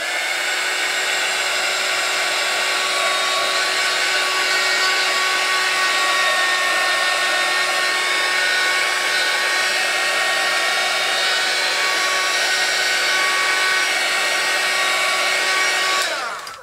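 A heat tool blows a steady, loud, close whir for about sixteen seconds while drying watercolour on an embossed card, then cuts off abruptly at the end. No voices are heard.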